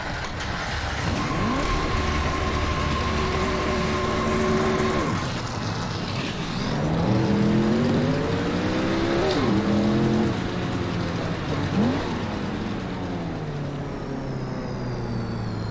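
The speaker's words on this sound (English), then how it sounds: "Start your engine!" Race car engines starting and revving in the NASCAR Racing 2003 video game, a loud, continuous engine roar with rising and falling pitch sweeps as several cars rev, no talking.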